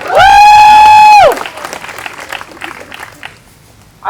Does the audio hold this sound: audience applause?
yes